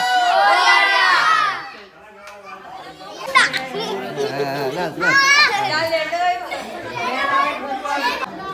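Lively crowd of children and adults shouting and cheering at a Ganpati immersion celebration, loud and continuous with excited voices rising and falling throughout.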